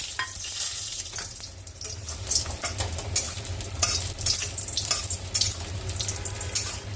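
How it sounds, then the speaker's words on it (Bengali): Bori lentil dumplings frying in oil in a pan in a home kitchen, a steady close sizzle with scattered stirring scrapes and small crackles, no voices. "বড়িটা ভেজে নেব।"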